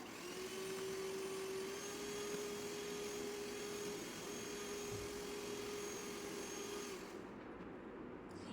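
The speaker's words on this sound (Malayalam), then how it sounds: "ഹൈ സ്പീഡിൽ തന്നെ ബീറ്റ് ചെയ്യാം." An electric beater runs at high speed through eggs and vanilla essence for a cake, giving a steady whirring drone with a humming whine that cuts off near the end, with no talk.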